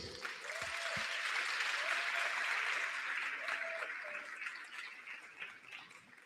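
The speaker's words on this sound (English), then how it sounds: "How's a round of applause?" Sustained audience applause fills a school hall during a Grade 12 maths workshop at Spine Road High School, a dense steady wash of many hands that slowly thins toward the end, with a few faint voices underneath.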